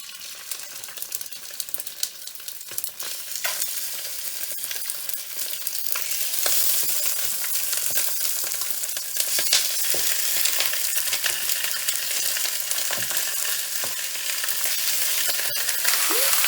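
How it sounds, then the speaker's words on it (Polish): Coated chicken pieces for a creamy curry sauce dish fry in a pan, starting with scattered crackles as pieces go in and building into a loud, continuous sizzle with occasional sharp pops. "obtaczam to mięso, żeby nie było mokre i zaczynamy kłaść na patelnię"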